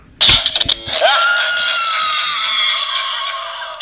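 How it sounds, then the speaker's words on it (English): A novelty light switch toy lets out a loud, shrill electronic scream after a few sharp clicks, the wail holding steady close up for several seconds. "My new toy is a screaming light switch."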